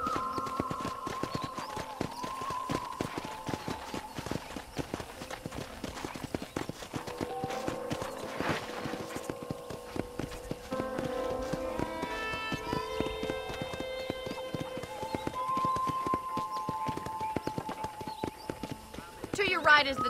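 Steady clip-clop of horse hooves at a walking pace in the video game Red Dead Redemption, with a voice talking over it and a brief whinny near the end.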